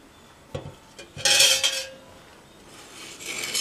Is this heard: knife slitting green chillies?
yes